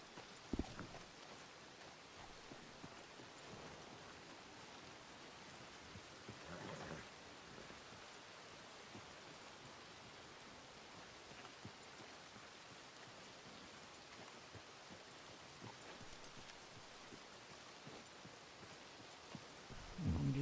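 Rain falls steadily in the video game WildRP, a Red Dead roleplay server, as a soft, even hiss that holds for the whole stretch, with a few faint knocks and no speech.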